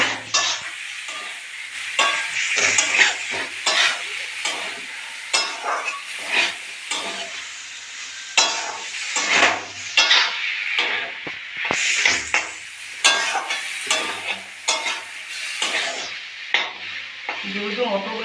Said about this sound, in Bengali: ভেজে রাখা আলুগুলো দিয়ে দিলাম, দিয়ে নেড়ে চেড়ে আমি জল দিলাম।